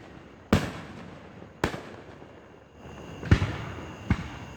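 Fourth of July fireworks show in Booneville, with four sharp booming bursts, each followed by a short rolling echo, heard from a distance over quiet ambience.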